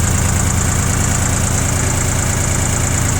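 A Shibaura SD2043 Japanese compact tractor with loader and half cab idles close by, its diesel engine chugging in an even, steady rhythm with no other sound.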